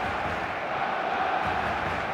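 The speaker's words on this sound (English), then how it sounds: "The stadium is full of noise and energy." A stadium crowd in the football video game eFootball keeps up a steady, dense roar of cheering and chanting, with a match commentator speaking over it.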